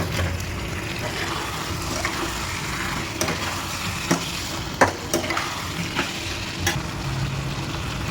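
Potatoes sizzle steadily in hot oil with cooked-down spices for a home-style fish curry with cauliflower, a constant close frying hiss broken by a few sharp clicks of a spatula stirring.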